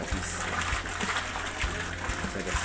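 Drinking water trickles and splashes steadily from a tap on a mountain trail near the summit, a continuous close wash with faint low thumps.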